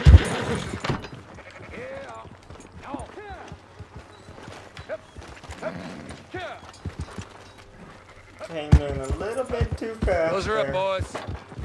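Sheep bleat in the video game Red Dead Redemption 2, scattered cries alongside hoof clip-clops and other game sounds, getting busier toward the end. A voice speaks intermittently.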